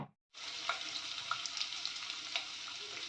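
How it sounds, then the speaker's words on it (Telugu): Soaked almonds and cashews frying in hot oil with mustard seeds and cumin, a continuous bright sizzle with scattered crackles and pops, close and steady after a brief silent start. "ఆయిల్ వేసుకొని ఆవాలు జీలకర్ర వేసుకొని బాదం పప్పు కాజు వేసుకున్నాను"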